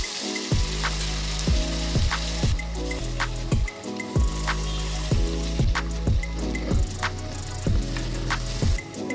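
Spice paste being poured onto fried chicken in a hot kadai, bursting into loud, busy sizzling and spattering, with repeated sharp pops and crackles that last throughout.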